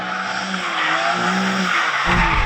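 A BMW M3 Competition slides with a loud, sustained tire squeal, the pitch wavering as the car drifts, while engine revs surge underneath, close and continuous.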